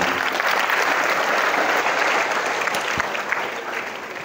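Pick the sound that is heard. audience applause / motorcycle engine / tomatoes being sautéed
audience applause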